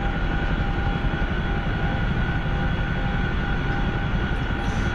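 Steady, loud droning rotor and engine roar of a Chinook helicopter in flight within a video game, a continuous unbroken hum with no voices.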